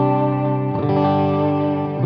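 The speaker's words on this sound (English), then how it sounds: "Let me bring in the effects loop with the ping pong delay." Electric guitar with a ping pong delay in the effects loop of a Yamaha THR100HD amp: a sustained chord shifts to a new one partway through, repeats bouncing behind it, loud and alone.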